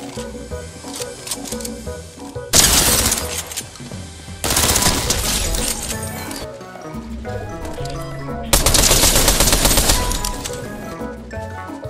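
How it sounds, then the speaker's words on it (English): Rapid Fortnite gunfire, loud machine-gun style bursts rattling in fast strings, with two especially dense volleys separated by quieter stretches of clicking and scattered shots. "I'm hearing the fucking shots, but I can't fucking see you."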